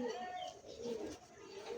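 Soft, low cooing from a young pigeon at a pigeon seller's, faint and brief with someone talking over it.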